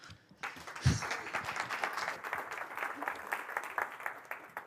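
A burst of audience applause at a programming conference, steady clapping from a crowd that continues throughout at moderate loudness.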